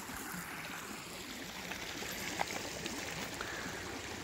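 Creek water flowing steadily in a childhood creek, a soft continuous burble with faint trickles and one small splash, heard alone with no talk.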